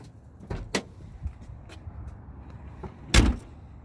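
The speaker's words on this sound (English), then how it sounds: "Gonna pop open the hood and take a look." Hood of a 1975 Lincoln Continental Town Car being released and lifted, with a couple of sharp latch clicks early on, light rattles, then a loud clunk near the end, close up and without speech.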